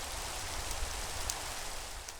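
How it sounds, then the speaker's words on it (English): Steady in-game rain from Minecraft hisses loud and close, an even wash of falling drops with faint droplet ticks and no talking. "Oh, it's raining."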